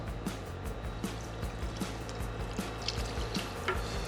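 Water is poured into a pot of fish stock in a kitchen, making a quiet, steady trickling splash with small repeated plops.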